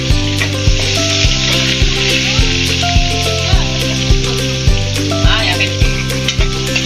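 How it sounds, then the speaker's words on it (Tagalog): Garlic and onion sauté in a pan, a steady bright sizzle with occasional stirring scrapes, heard beneath loud rhythmic background music with a regular beat. "So, i-mix natin para lumabas ang aroma niya."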